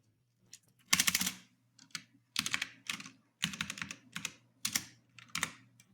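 Typing on a computer keyboard in short bursts of rapid clacking keystrokes separated by brief pauses, close and clear with a faint steady hum underneath and no talk.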